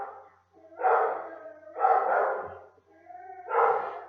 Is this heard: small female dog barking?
yes